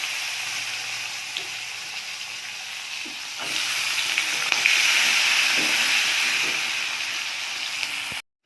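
Bay leaf and chopped onion fry in hot oil with cinnamon and green cardamom for an Indian curry, giving a steady broad sizzle that swells louder partway through and holds until it cuts off.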